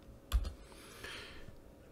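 A single key press on a computer keyboard, a brief close click near the start followed by a faint low hum.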